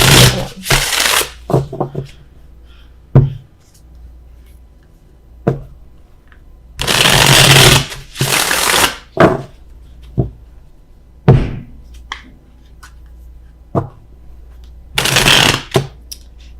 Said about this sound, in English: let's get one for the Five of Wands. If I can shuffle.